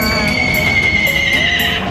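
A horse at a farm cafe in Kanchanaburi, Thailand, gives a loud, close, quavering neigh that holds for about two seconds over outdoor background noise.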